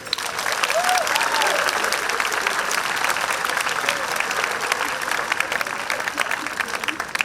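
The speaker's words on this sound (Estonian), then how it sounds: "Aplaus neile kõigile." Sustained applause from a concert audience at the 2019 Tartu city day gala concert: dense, steady clapping that swells in and holds at full strength throughout, with no voices.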